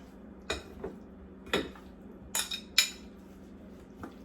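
Onion powder, garlic powder, salt and pepper being mixed together for fried chicken strips: a handful of sharp metal-on-bowl clinks and taps spaced irregularly over a quiet background, close and fairly soft.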